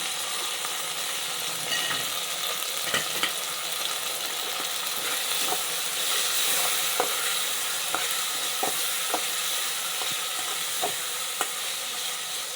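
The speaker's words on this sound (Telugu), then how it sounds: "ఇప్పుడు టమాటాలు వేసేయాలండి." Three tomatoes frying in a pan for a chicken curry, with a steady loud sizzle throughout and occasional sharp scraping stirs of the utensil against the pan.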